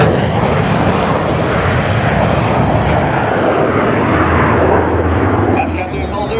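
An F-16 Fighting Falcon fighter jet roars past at low altitude during an airshow at MCAS Iwakuni, a loud, broad engine rush that holds steady and then fades slightly, while a public-address announcer speaks over it.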